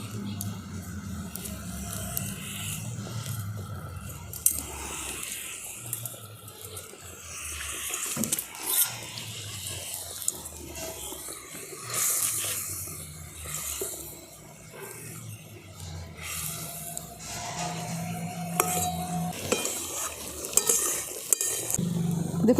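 Fried river bata fish dropped into a simmering eggplant curry, giving a steady bubbling sizzle with occasional stirring and utensil clinks against the pan, with no talk.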